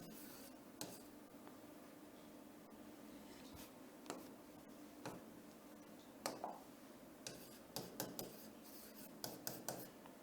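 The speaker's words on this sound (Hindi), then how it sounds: "वापस से यहां लिख के दिखा रहा हूं मैं" Handwriting during a lesson: faint, close scratching and tapping strokes in irregular bursts over a steady low room hiss, growing busier toward the end, with no talking.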